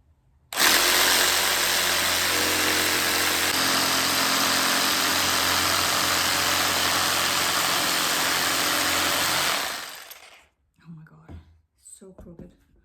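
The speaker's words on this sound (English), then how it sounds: "now I'm going to use the jigsaw." A jigsaw cuts through an MDF board for a custom TV door, a loud, steady buzzing roar running continuously for about ten seconds, then stopping, followed by brief quiet voices and faint handling noises.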